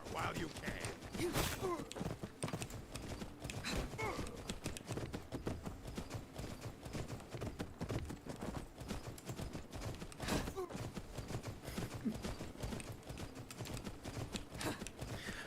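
Horse hooves clip-clop through mounted combat in the video game Skyrim, a steady near rhythm of footfalls running throughout beneath game noise and a talking voice.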